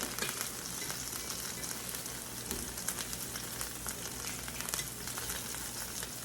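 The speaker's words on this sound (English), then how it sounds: "I'm gonna swirl the pan again with the oil and the mushrooms." Lion's mane mushrooms fry in oil in a pan that is swirled. The sizzle is steady and crackling, close but fairly quiet, with no voices over it.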